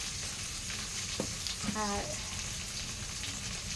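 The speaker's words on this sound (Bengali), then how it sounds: "আলু ভাজা বসিয়ে দিয়েছি" Potatoes frying in oil in a pan over a wood-fired stove, giving a steady close sizzle throughout, with a brief stir and clatter midway and a short spoken word.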